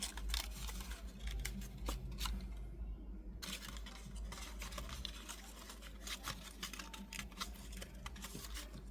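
Scissors snip paper for a 3D pop-up Christmas card in quick, irregular clicks and crisp cuts, faint and close, with a short pause partway through.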